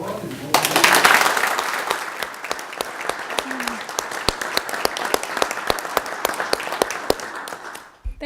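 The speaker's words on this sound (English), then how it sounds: "everyone may applaud and welcome" A council meeting audience breaks into applause after a swearing-in, a burst of many hands clapping that settles into scattered, sharp individual claps before fading out at the end.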